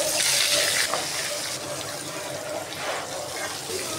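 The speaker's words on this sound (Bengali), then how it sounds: "এই মাছটা আমি সুন্দর করে ভেজে নিলাম" Jatka hilsa fish frying in hot oil in a pan, heard as a steady, loud, close hiss that rushes almost like running water and surges slightly at moments.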